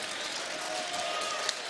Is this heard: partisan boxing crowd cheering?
yes